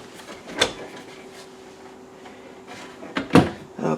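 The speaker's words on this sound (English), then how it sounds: "Okay, more drawers," Drawers and cabinet doors in a 2023 Flagstaff Super Lite 27FBIK travel trailer slide and knock shut, with two distinct close-range clunks separated by a quiet stretch, plus a softer rattle at the end.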